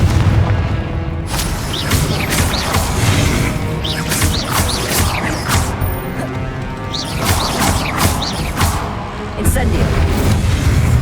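Confringo and Incendio spell explosions in Hogwarts Legacy, a loud run of repeated booming blasts and crackling impacts over a rumbling battle background, with a voice talking throughout.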